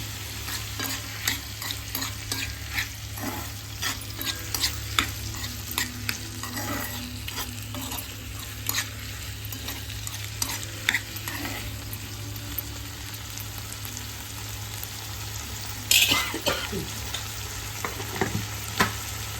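Bottle gourd pieces with sugar and salt being stirred in a pan, a steady sizzle running under continuous scraping and stirring strokes, close and moderately loud, with a sharper clatter near the end.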